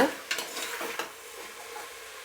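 Tomatoes frying in a pan for tomato rice, a soft steady sizzle with a few sharp scrapes and clinks of a spoon stirring against the pan early on, then settling into a quieter hiss.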